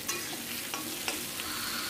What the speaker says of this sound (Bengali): দেখতে পাচ্ছ টমেটোটা তো কষিয়ে নিচ্ছি, টমেটো ভালো করে কষিয়ে নেব।